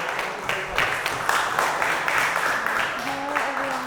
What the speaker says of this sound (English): So a round of applause for Prima as well.